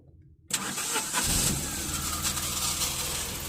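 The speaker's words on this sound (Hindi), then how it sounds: "तो देखेंगे आप नैनो तो स्टार्ट हो चुकी है।" A Tata Nano's small petrol engine cranks and catches after a quiet moment, then settles into a steady, close idle with a mid-pitched hum and faint rattle.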